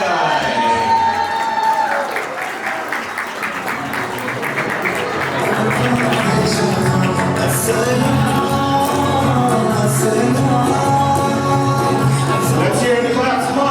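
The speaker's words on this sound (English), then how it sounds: "Round of applause, guys." Wedding guests at a valima reception applaud and cheer in a loud, continuous crowd roar, with whoops and shouts rising over steady clapping and talk mixed in throughout.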